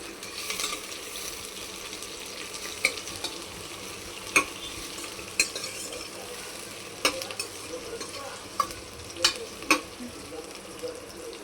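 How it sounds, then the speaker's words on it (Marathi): Onions fry in a pan with a soft, steady sizzle, broken by occasional sharp clicks and scrapes of a utensil, close but fairly quiet. "कांद्याला मस्त फ्राय करून घेऊ आपण."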